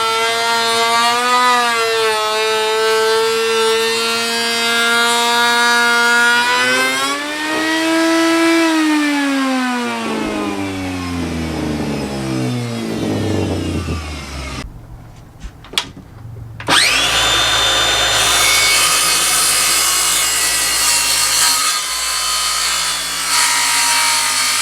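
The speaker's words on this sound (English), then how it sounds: "This is about the scariest router bit I've ever used in my life." A very large router bit mills wood for a countertop in a bus conversion, a loud close motor whine that sags and rises as the bit loads up in the cut, with a brief pause before cutting resumes harsh and steady.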